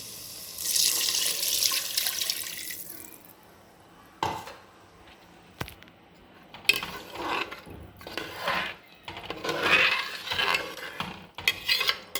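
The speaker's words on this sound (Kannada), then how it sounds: "ಈಗ ನೀರು ಹಾಕ್ತಾಯಿದ್ದೀನಿ" Water splashes and runs into a pot of rice in bursts, with metallic clinks and scraping of cookware in between, close by.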